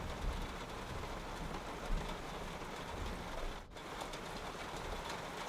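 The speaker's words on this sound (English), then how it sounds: "welcome to a rainy Arctic morning here" Steady rain pours down on a stormy Arctic morning, a dense, even hiss that runs unbroken from start to finish with no voices and no distinct thunder.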